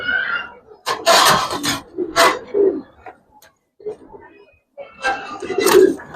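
Giribaz and coloring pigeons coo in several close bursts with short gaps between them, some calls overlapping, and a brief quiet stretch falls in the middle before another loud round of cooing near the end.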